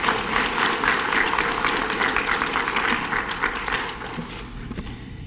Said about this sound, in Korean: 서로 환영하는 의미로 서로에게 큰 박수 부탁드리겠습니다.